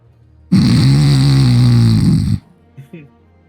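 A person imitates snoring with one long, loud, rasping drone lasting about two seconds, followed by a couple of short grunting sounds.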